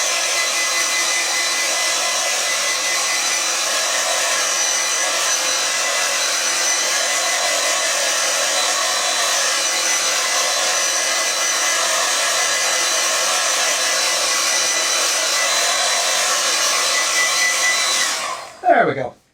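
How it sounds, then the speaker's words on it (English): A hair dryer blasts steadily at close range to dry a watercolour painting, a loud continuous broadband whoosh that holds for about eighteen seconds before cutting off abruptly with a brief falling whine. "Let me just give it a quick blast with the dryer."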